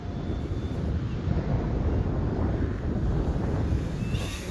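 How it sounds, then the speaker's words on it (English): Wind buffets the microphone in a steady, loud rumble across an open parking lot where an E-flite Ultimate 3D RC plane is flown in the rain, with no voices. "the wind is coming from the front"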